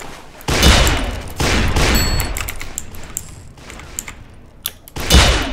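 Rapid-fire revolvers in the online game KAT crack off in several loud bursts of quick shots, with strong thumping hits near the start and end and scattered sharper pops between.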